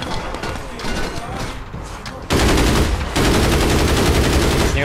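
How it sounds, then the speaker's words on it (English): Gunfire in the APB video game, with a dense, loud burst of rapid automatic shots taking over halfway through after quieter game noise and impacts. "As soon as I pop my head out, they start shooting at me."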